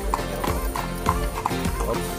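A kalesa horse-drawn carriage in the streets of Vigan, with hooves clip-clopping in a steady, close rhythm and a brief whinny.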